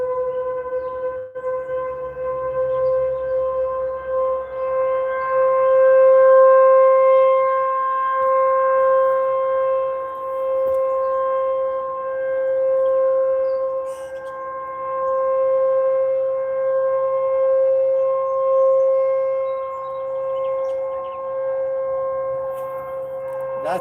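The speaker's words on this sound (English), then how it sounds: "That is the nuclear power plant alarm." A nuclear power plant alarm siren sounds during its monthly test, a sustained multi-tone wail heard from a distance outdoors, slowly swelling and fading in level over about twenty seconds, with no talk.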